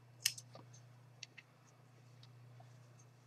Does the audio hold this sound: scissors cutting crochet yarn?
yes